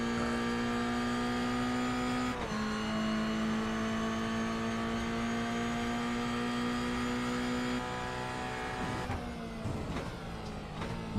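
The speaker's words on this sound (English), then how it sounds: "Marvin Samayoa revving out his GR86 Cup." A Toyota GR86 Cup car revs hard in a sim racing game, a loud sustained engine note held high with a brief shift dip, then dropping away near the end with no talk over it.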